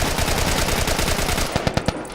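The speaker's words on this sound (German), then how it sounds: "Und ich deswegen mit dem Sturmgewehr hier Sauerei machen muss." An assault rifle fires in The Last of Us, a loud, close burst of rapid rhythmic shots that gives way to a few separate single cracks at the end.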